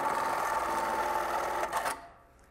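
An industrial sewing machine stitches Velcro onto a suppressor cover in a factory, running as a continuous fast, close mechanical whir for about two seconds before a brief clatter as it stops and the sound drops away.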